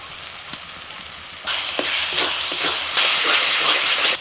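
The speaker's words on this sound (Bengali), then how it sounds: "এবার দিয়ে দিচ্ছি ধনে আর শুকনো লঙ্কা একসাথে বাটা।" A paste of coriander and dried chilli goes into onion paste frying in hot oil with ginger-garlic paste. A soft sizzle swells into a loud, steady frying hiss, with a couple of sharp stirring clicks nearby.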